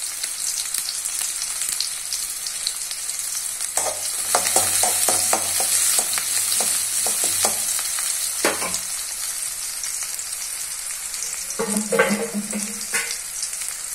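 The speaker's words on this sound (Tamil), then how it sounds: "இப்போ நல்லா கடுகு பொறிஞ்சதுக்கப்புறம் சின்ன வெங்காயத்தை போட்டுக்கலாம்" Mustard seeds, small shallots and chillies sizzle and pop in hot oil in a pan for a Tamil okra fry, with stirring scrapes and bursts of crackling, close and steady throughout, no talking.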